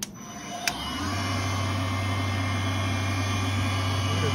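Tormach 770 PCNC Series 3 CNC milling machine spindle starting up in manual mode, a click followed by a steady mechanical hum that settles into a continuous drone, near and alone.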